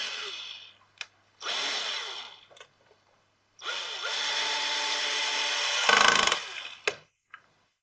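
A power drill driving screws into the cabinet of a 12V 70Ah starter charger: two whirring runs, one short and one longer, that bog down under load, with clicks and handling noises between them, close up.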